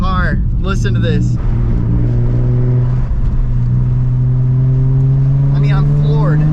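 A Nissan 350Z HR engine stuck in limp mode runs with a steady low droning hum that rises slightly in pitch toward the end, loud and close, with someone talking over it at the start and again near the end.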